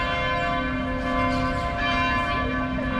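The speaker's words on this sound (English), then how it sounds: "the church bells are going off of the cathedral over there" Church bells ring from a cathedral in Santa Ana, El Salvador, a steady, sustained peal with lingering tones, heard from across town over a street setting.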